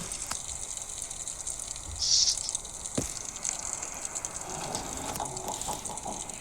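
In a video game, water gushes as a huge cruise liner sinks stern-first: a continuous rushing roar with a louder surge partway through and faint rattles and thumps underneath.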